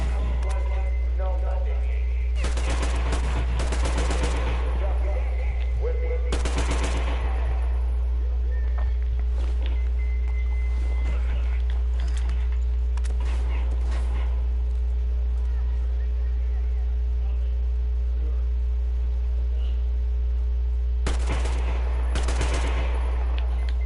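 Bursts of AK rifle fire from the video game Metro Exodus crackle in several separate volleys, loud and close, with quieter gaps between them as the weapon overheats and jams.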